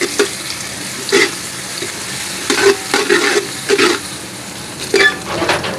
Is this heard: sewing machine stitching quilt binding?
no